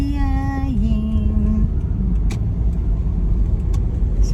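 A car drives along a highway with a steady, loud road and engine rumble throughout, and a faint tonal whine fades early on.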